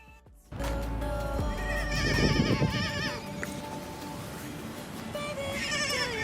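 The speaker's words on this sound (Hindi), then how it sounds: "फिर हमें हमारे कैंप के पास 1-2 घोड़े नजर आए।" One or two horses neigh near a mountain camp, loud whinnies that break out suddenly and recur in wavering bursts over background noise.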